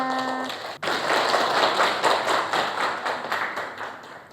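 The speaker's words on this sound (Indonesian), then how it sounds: "Tepuk tangan untuk kita semuanya" Classroom students applauding together, a dense burst of clapping that starts abruptly and carries on steadily for a few seconds, close and fairly loud.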